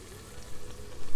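Onion frying in a pan for a homemade chicken curry gives a brief, soft sizzle with small crackles that swell slightly toward the end.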